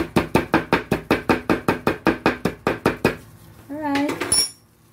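Garlic pounded while cooking beef stew, heard as about sixteen evenly spaced loud close thuds in a steady rhythm, then a short burst of talking and clattering at the end.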